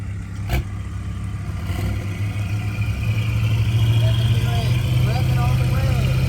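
An Audi R8 engine runs at a steady idle and grows slightly louder, a low rumble with voices talking over it.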